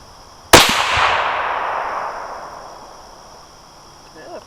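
A single sharp crack from a .308 rifle firing a 168gn BTHP match bullet, followed by a long rolling echo that fades over a few seconds, with insects chirping faintly in the background and a brief voice at the end.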